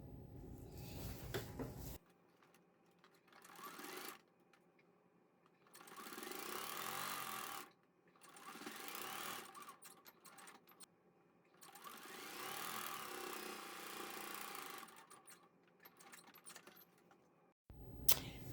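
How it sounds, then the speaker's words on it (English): A sewing machine stitches binding around a quilted potholder in several steady whirring bursts of a few seconds each, separated by short pauses, close and fairly loud with no talking. "now I'm going to start sewing here"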